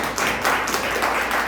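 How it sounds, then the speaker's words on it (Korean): A church congregation at a Korean church in Mexico applauds its worship team, a thick, steady patter of many hands clapping together at close range, with no speech over it. "우리 찬양단도 한 박수 한번 또 올려드려야지"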